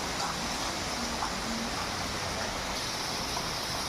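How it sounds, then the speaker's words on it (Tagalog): Heavy rain keeps up a constant, broad hiss outside an apartment, with faint background tones mixed into the steady downpour. "grabe ang ulan."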